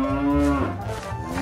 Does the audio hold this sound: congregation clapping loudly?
no